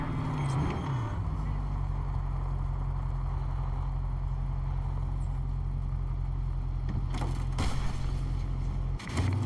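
A car engine hums steadily in Cyberpunk 2077, a continuous low drone held for the full stretch, with a brief swell and a few sharp transient noises near the end.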